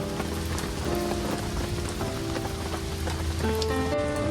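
Rain falls steadily at a campsite in Blue Mounds, a constant close patter of drops hitting surfaces nearby, with faint tonal ringing in the background and no talking.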